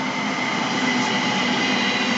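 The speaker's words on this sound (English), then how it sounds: "incoming in is the 910 Great Northern service from Welwyn Garden City to" A Great Northern passenger train pulls into Hatfield station on the East Coast Main Line, giving a steady close rumble with a sustained metallic hum and tonal whine.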